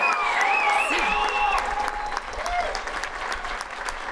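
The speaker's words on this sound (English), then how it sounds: "Give Michael Burns a round of applause." A crowd applauds at a Fitchburg State University undergraduate commencement, steady dense clapping throughout with a voice speaking over it at first.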